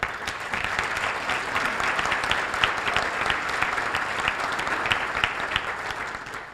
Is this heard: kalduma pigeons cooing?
no